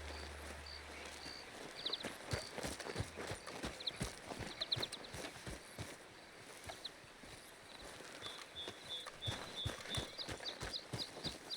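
Horse hooves clip-clop steadily in Red Dead Redemption 2, a quick, irregular run of close, moderately loud hoof strikes with faint high chirps or jingles in the background.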